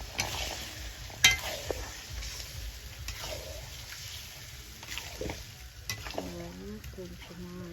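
Bay leaves stirred in hot oil for a mutton curry, giving a steady close sizzle with scraping stir strokes and a sharp clink near the start; a voice briefly murmurs near the end.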